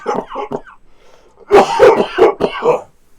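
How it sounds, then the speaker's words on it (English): A few sharp coughs or throat-clearing bursts close to the microphone during a podcast recording, preceded by a brief stretch of muffled vocal sound, with a short quiet gap between them. "Let me cough real quick."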